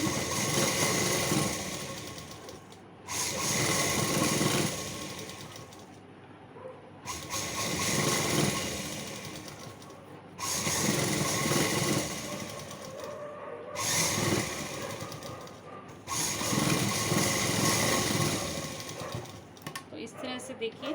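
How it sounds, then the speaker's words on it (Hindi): Sewing machine stitching a belt on a night suit, running in several sustained bursts of steady mechanical whirring separated by short pauses, loud and close with no talk. "इस तरह से देखिए हमने ये सिलाई लगाई है, तो इससे हमारी जो बेल्ट है वो फिट रहती है"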